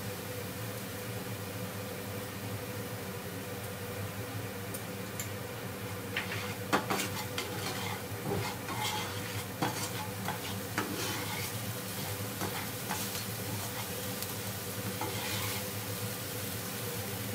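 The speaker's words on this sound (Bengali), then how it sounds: "মশলাটা আমার একটু কাঁচা গন্ধ ছাড়া পর্যন্ত ভাজতে হবে।" Spice masala fries in a pan for a Bengali dahi rui fish curry, a soft steady sizzle with occasional stirring scrapes and ticks, moderately quiet and continuous without talk.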